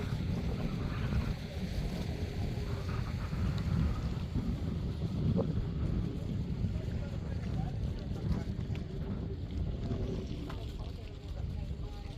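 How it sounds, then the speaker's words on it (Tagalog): Strong wind buffets the microphone in a continuous low roar, with a boat engine and water noise beneath and occasional voices. "Ang hangin."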